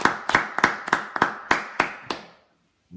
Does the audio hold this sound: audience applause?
yes